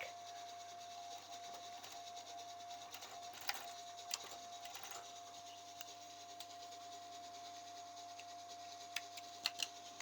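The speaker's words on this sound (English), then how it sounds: "So that is the mitt stitched up on the overlocker." An overlocker sewing machine runs steadily through thick bath-towel fabric. It gives a faint, continuous mechanical whir with a faint tonal hum and scattered light ticks, heard alone without speech.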